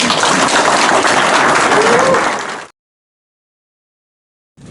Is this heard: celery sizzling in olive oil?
no